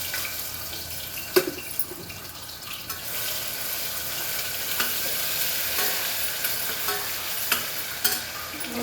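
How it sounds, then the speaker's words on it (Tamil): Ginger garlic paste spattering in hot oil, a steady dense crackle with occasional louder pops and stirring scrapes, close and alone. "எண்ணெய் காஞ்சிடுச்சு, இஞ்சி பூண்டு பேஸ்ட் போட்டுக்கலாம்."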